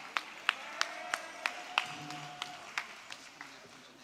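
At a women's policy luncheon, a few scattered, distinct hand claps ring out in a quiet room, evenly spaced at first and then thinning and fading.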